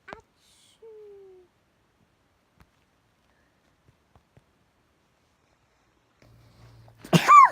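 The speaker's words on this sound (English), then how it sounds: "that was a big sneeze" A sudden sharp sneeze bursts out near the end after long near-silence, close and fairly loud, preceded by a few faint vocal sounds.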